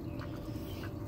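Backyard ducks on grass quack softly in a few quick calls, faint above a steady low outdoor background.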